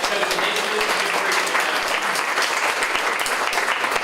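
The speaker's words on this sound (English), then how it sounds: "So give yourselves a round of applause for that." Guests at a Chamber of Commerce awards luncheon applaud together, a steady, close field of many hands clapping at an even volume throughout, with faint voices mixed underneath.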